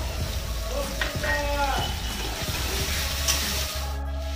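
A ginger, garlic and dried chilli paste, rinsed out with water, hits a hot pan for a Bengali vegetarian shukto, setting off a close, steady sizzle and frying hiss with a few stirring clinks.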